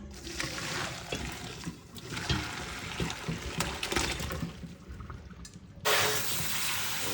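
Hot boiled water is poured off cow skin for red peas soup, giving a splashing, gurgling pour over a continuous watery rush with a louder surge near the end and no talking.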